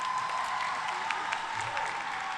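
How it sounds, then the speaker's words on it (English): Audience applause at a high school commencement ceremony, a steady, moderately distant wash of clapping from a large crowd lasting a couple of seconds. "Let's give Christina one more round of applause."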